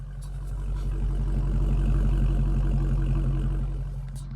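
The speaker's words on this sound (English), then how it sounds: "Let me bring the microphone close to the exhaust so you can hear it." A Dodge Challenger Scat Pack idles with the microphone held close to the exhaust, giving a deep, steady, loud rumble with a slight swell in the middle and no talking.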